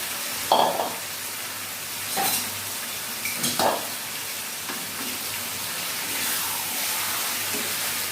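Chicken pieces drop into a pan of fried masala for chicken masala kasa, setting off a steady hiss and sizzle, with a few sharp clanks and stirring scrapes of a utensil against the pan along the way.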